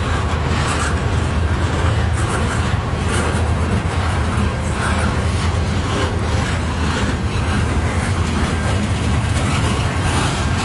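A CN southbound freight train rolls past in Port Huron on a cold night, a steady loud rumble with rail clatter that fills the whole stretch without letup.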